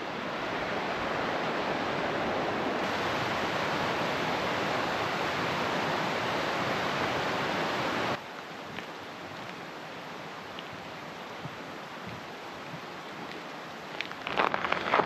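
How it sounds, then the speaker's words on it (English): A broad, steady rush of the Gallatin River fills the first half, then drops to a quieter, continuous wash with faint scattered sounds. "Here's the Gallatin River."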